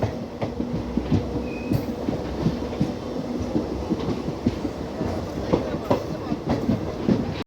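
DMU train 74646 on the Jalandhar–Ambala line runs steadily on the rails, leaving the main line on the approach to Sirhind station, with continuous rumble and rhythmic clickety-clack wheel beats, close and loud throughout.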